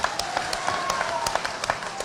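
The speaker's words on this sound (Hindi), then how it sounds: "मेरे प्रतिष्ठित सभी पदाधिकारियों का आप जोरदार ताली से एक बार स्वागत कर देना" An audience at a party merger gathering welcomes officials with brief, scattered clapping, a handful of distinct claps over a murmuring room.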